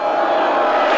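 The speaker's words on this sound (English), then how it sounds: "This is what we call a boo cheer." A crowd sound effect mixing booing and cheering, a dense sustained wall of many voices held at steady loudness throughout, with no single voice standing out.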